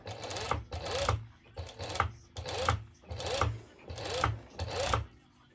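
A sewing machine runs top stitching on a two-color halter neck top in six steady bursts of rapid mechanical whirring, each with a brief pause between, loud and close. A voice is faintly present.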